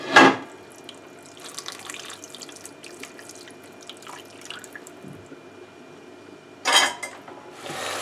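Vegetable juice splashes into a roasting pan holding browned vegetables for a braised beef brisket, with a sharp pour at the start, quiet bubbling and clinks of cookware, then another splash near the end.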